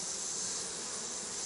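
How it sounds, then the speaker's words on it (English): Honey bees in an open hive during queen grafting make a faint, steady buzzing hum with no voices over it. "You see the bees coming up to the top,"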